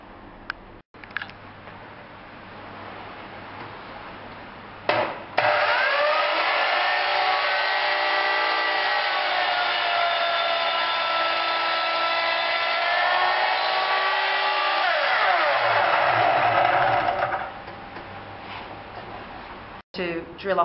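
A drop saw cuts through a small wooden piece for a box, the motor spinning up with a whine, biting steadily for about twelve seconds, then winding down, with workshop quiet before and after.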